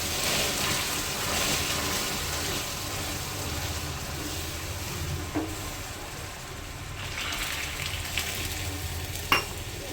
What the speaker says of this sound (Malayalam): കാരമൽ നല്ലപോലെ ആയിട്ടുണ്ട്, തിളച്ച് നല്ലോണം കുറുകിയിട്ടുണ്ട്.